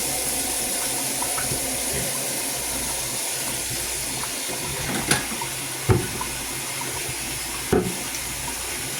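Hot tap water runs steadily into a cake pan in a kitchen sink, a constant hissing splash with a few louder clanks and knocks of the pan, no talking.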